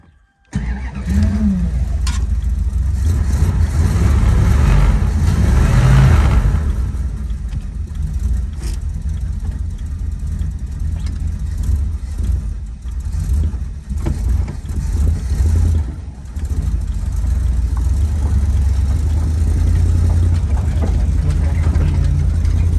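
A 1969 Dodge Dart Swinger's engine runs steadily and loud while the car drives around the block on its first outing in 20 years, with a low rumbling drone throughout, brief dips and surges, and voices in the cabin.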